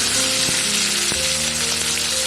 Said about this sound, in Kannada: ಈಗ ಇದಕ್ಕೆ ಕರಿಬೇವನ್ನ ಸೇರಿಸ್ತಾ ಇದ್ದೀನಿ.